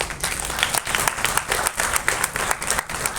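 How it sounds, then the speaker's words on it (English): An audience gives a dense round of applause, many hands clapping steadily and loudly throughout with no pause. "A round of applause."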